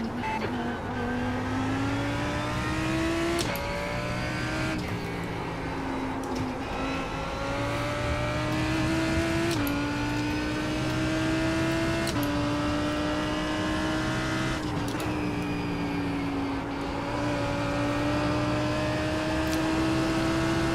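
Race car engine accelerating hard at Spa during a support race, loud and close, revving up through repeated gear changes with brief dips between pulls, no talk.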